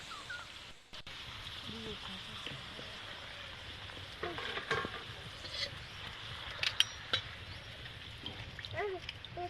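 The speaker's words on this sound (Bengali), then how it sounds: "তার আগে আলুগুলোকে ভেজে নেওয়া হচ্ছে, আর এদিকে এখনো পাঁপড় ভাজা" Potatoes frying in oil in a home kitchen while a Bengali holiday meal is cooked: a soft, steady sizzle with scattered pops and occasional clinks of stirring, fairly quiet and close.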